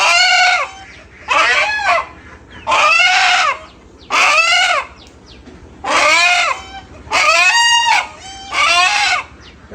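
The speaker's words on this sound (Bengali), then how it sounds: "একটা মোরগ ধরা হয়েছে, এটাকে জবাই করতে হবে।" A rooster being caught and handled before slaughter, crowing and squawking loudly in seven evenly spaced bursts close by, with brief quieter gaps in between.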